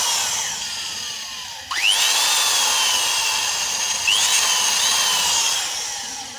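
A machine drill fitted with a 6mm bit bores into a motorcycle cylinder head, giving a loud, sustained high whine that rises sharply as the bit bites, with a brief pause and a second surge partway through.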